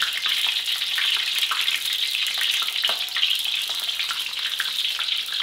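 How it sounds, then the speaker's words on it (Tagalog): Hotdogs frying in oil give a dense, continuous crackling sizzle that stays loud and even from start to finish, with no voices. "magpiprito muna ako ng hotdog"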